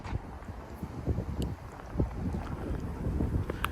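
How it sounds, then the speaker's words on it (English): Strong night wind gusts rolling through live oaks in Frisco, Texas, a steady broadband roar with rustling that swells in waves, buffeting the microphone close up. "Oh, here comes a gust."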